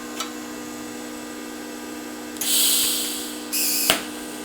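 A budget TIG welder running at 160 amps gives two bursts of steady, bright arc hiss, one longer and one shorter with a small pop at the end, over a constant low electrical hum.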